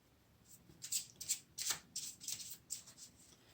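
Tarot cards being handled and shuffled, a run of soft papery riffles and slaps in quick bursts, close and fairly quiet, with no talking.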